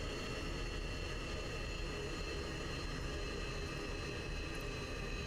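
An F-16 jet engine in a flight simulator game winds down after the throttle is secured, a steady broadband roar and whine holding at a constant, moderate level throughout with no talk.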